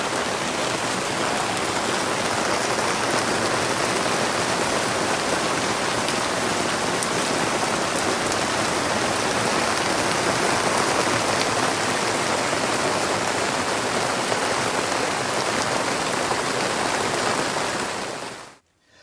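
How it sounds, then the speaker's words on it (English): Steady heavy rain patters and hisses densely and evenly throughout, loud and close, with no voices, before cutting off abruptly at the end. "It might be raining now"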